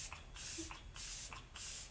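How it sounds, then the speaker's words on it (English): Arbonne Let It Set setting spray is misted onto a face, with three quick soft hissing spritzes in a row, close and fairly quiet. "This is the Let It Set Refinishing Spray. I always use a setting spray on my face."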